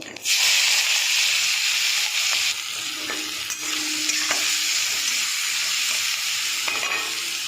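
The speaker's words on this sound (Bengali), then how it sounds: "পেঁয়াজটা দিয়ে দেবো" Sliced onions hit hot oil with cumin seeds in a pan and break into a loud, steady sizzle and hiss, with a few stirring scrapes and no voices.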